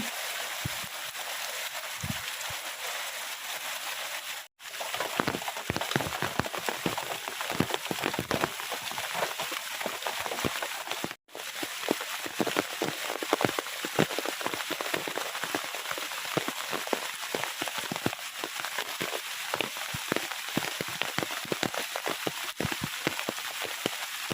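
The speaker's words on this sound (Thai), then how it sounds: "ตกหนักทั้งวันทั้งคืนครับ บรรยากาศก็จะชื้นไปด้วย น้ำฝน" Heavy rain falls steadily on an old, abandoned temple hut, a dense continuous patter of drops on the roof and surroundings lasting throughout, with no voices.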